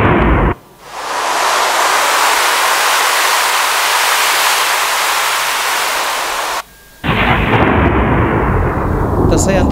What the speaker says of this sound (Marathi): अचानक विजांचा कडकडाट, ढगांचा गडगडाट, धोधो धोधो धोधो पाऊस पडायला सुरुवात झाली.